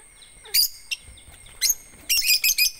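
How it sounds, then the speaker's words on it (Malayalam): Baby birds give high, thin chirps in short bursts, with a few isolated calls early on and then a denser cluster of repeated cheeps near the end, heard fairly close over a quiet background. "നമ്മുടെ കിളിക്കുഞ്ഞുങ്ങളെ ഇപ്പൊ കാണിക്കാം കേട്ടോ"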